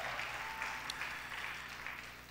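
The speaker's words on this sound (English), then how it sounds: "give him a round of applause in the house" An audience at a church harvest conference applauds with sustained, dense clapping that fills the hall evenly from start to finish.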